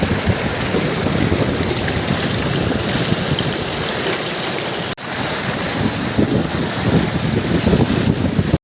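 Strong floodwater rushes over a village road at Badli near Dwarka during heavy rain, a constant loud roar of churning water mixed with wind buffeting, close by with no pause.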